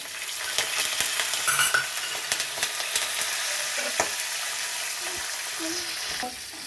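Curry leaves, garlic and green chilies crackle and sizzle in hot oil for dal fry, a steady close hiss broken by sharp spitting pops and a few stirring clicks.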